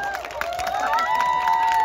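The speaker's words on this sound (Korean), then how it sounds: "박수 한번 주세요." Audience clapping and cheering at a restaurant ceremony as the Lunas Pink team is congratulated, steady applause with tonal background sounds and voices mixed in.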